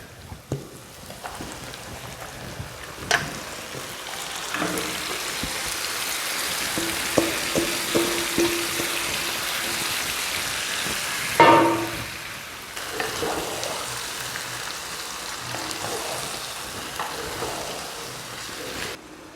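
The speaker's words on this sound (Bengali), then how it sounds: "এবারটা আমি আস্তে আস্তে মটনগুলো আমি ঢেলে দেবো।" Marinated mutton slid into a pan of fried onion and tomato, giving a continuous frying sizzle with scattered crackles and one louder splashing surge midway, no voices.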